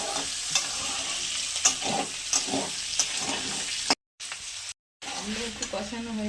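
Onion paste for ghugni sizzles steadily in a pan, with a dense, continuous frying hiss and repeated scraping strokes of a spatula being stirred through it, briefly cutting out twice.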